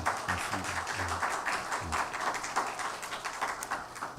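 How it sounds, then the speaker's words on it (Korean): Congregation clapping in encouragement at a university chapel service, a steady patter of many hands heard at moderate distance, with a low voice or hum underneath early on. "우리 다시 한번 격려의 박수 하겠습니다."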